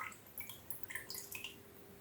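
Faint, irregular water drips patter close by as a freshly watered orchid pot drains, a quick scattering of small droplets falling in a quiet room.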